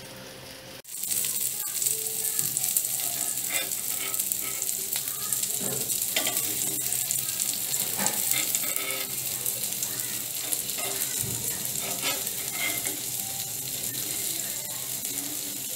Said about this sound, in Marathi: आता आपण असं फ्राय होऊ द्यायचे ना दोघं साईडने